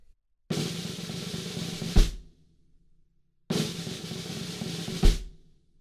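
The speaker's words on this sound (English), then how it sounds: "very start of this song, we have a drum roll" Snare drum roll from the intro of a song, played smoothly and evenly, two separate rolls each lasting about a second and a half and ending in a sharp accent, heard alone.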